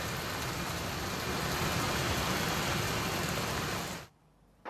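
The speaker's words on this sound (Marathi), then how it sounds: "ठाण्यामध्ये मुसळधार पाऊस सध्या कोसळतोय" Heavy monsoon rain pours down over Thane city, a dense, steady roar of downpour that fills the scene for about four seconds before cutting off abruptly into near quiet.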